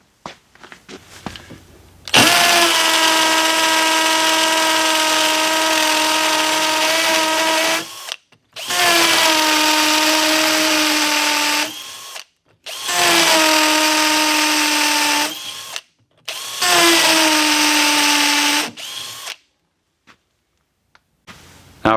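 A KIMO T-20 cordless drill driver whines loudly in four sustained bursts of several seconds each, separated by short pauses, with a steady motor pitch and no talking.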